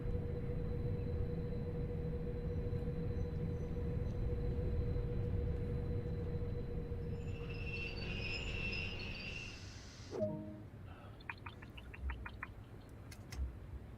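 A Stadler Flirt train in Train Sim World 2 on the Lucerne–Sursee line runs with a low steady rumble and a faint whine, slowing near the end, where brief clicks and beeps from the cab sound.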